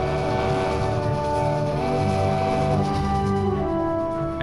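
A steady, droning rumble of a train travelling along its line, with sustained low and mid tones and a faint gliding pitch shift midway, continuous and even throughout with no talking.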